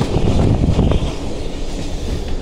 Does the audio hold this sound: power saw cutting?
no